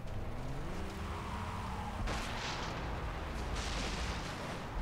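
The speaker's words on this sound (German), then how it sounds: "Hast du die Explosion gesehen?" An explosion in the video game Far Cry 3 booms out midway over a rumbling vehicle engine, followed by a second rough blast, both loud and rolling, with no talk.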